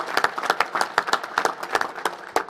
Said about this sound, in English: let's give the Smithsonian another round of applause, will you?